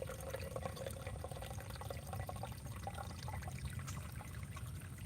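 Roof-collected rainwater vinegar, a fermented plant extract, is decanted in a backyard homestead garden, a continuous soft trickling pour with faint splashing, steady throughout.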